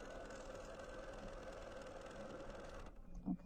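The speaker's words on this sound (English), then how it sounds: "just go right down and you can sew right off" A sewing machine stitches in a close, steady mechanical whir with rapid needle chatter, quiet overall, stopping just before the end, where a few faint handling sounds follow.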